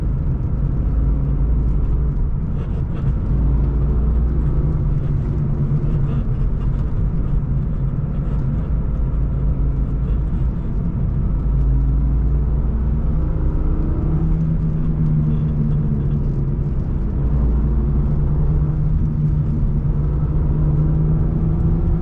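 Steady low road and tire rumble fills the cabin of a 1997 BMW E36 M3 on 17-inch wheels while driving, a constant loud drone with slight swells and no talk.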